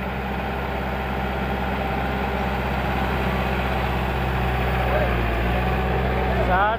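A Massey tractor's engine runs steadily up close, a deep, even diesel drone with a constant low rumble for the whole stretch while the hydraulic lift is raised.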